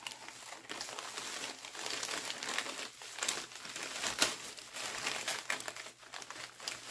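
Plastic packaging and tape crinkle and rustle as beads are wrapped back up, continuous close handling with irregular crisp crackles and a few sharper bursts.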